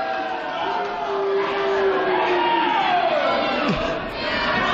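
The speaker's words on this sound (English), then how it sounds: "Now watch this crowd roar." A wrestling-event crowd roars in a large arena, a loud sustained swell of cheering and shouting voices that rises and falls, with individual yells standing out above the mass of noise.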